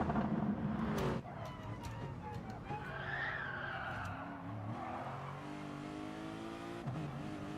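Race cars battling wheel to wheel at Mount Panorama, tires squealing and skidding as engines rev and drone past, with a commentator talking over the sound.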